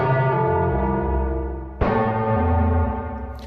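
Two sustained FM synth notes played on a keyboard, each struck and then ringing with a rich, bell-like metallic tone that slowly fades, the second starting partway through.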